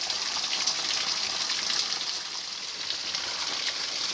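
Water from a cold natural spring in the Kentucky countryside pours steadily into a bottle, a continuous close gushing splash with no talking.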